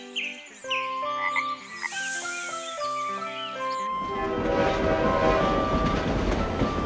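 Moving cartoon train: a short musical melody gives way to a loud, steady rumble and clatter of rolling train cars that builds slightly and carries on alone, with no voices.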